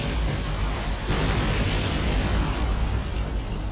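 Rumbling explosions from Nebelwerfer rockets landing in Army Men of War, a dense continuous roar with a heavier burst partway through, loud and close.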